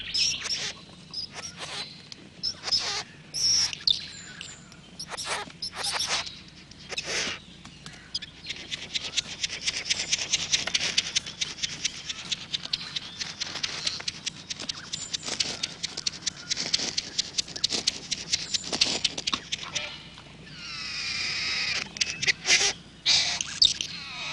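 Male bowerbird at his bower displaying for a female in Australia, a long run of busy chirps, clicks and rustling patter, some sharp calls near, with a denser burst of twittering toward the end.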